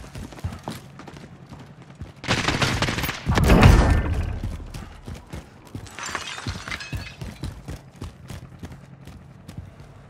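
Gunfire in the video game SDG Senzo: a loud cluster of sharp, crackling shots bursts out near the middle, followed by quieter scattered pops and mechanical clatter.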